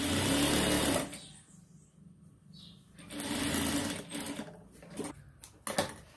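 Electric sewing machine stitching elastic onto a baby crib sheet, first a loud steady whir, then a pause with fabric handling, then shorter bursts of rapid stitching, close by.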